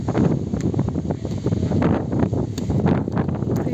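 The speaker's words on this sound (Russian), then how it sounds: "Ветер сильный." Strong wind buffets the microphone outdoors, a steady loud rushing roar with gusty swells that lasts throughout, with no voices.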